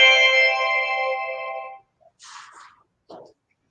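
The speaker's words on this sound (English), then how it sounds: "that was my phone." A mobile phone ringtone plays a bright, sustained tone for under two seconds and then cuts off, followed by a few faint rustles in a quiet room.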